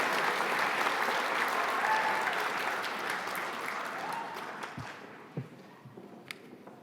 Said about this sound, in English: Let's have a big round of applause for the HCA grads from July 2022.